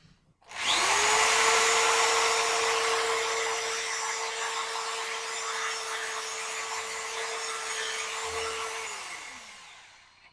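A loud, steady high-pitched drill whine boring through a gun barrel runs continuously for about eight seconds, then winds down and stops.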